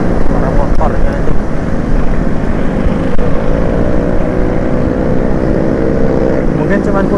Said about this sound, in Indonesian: suara motornya itu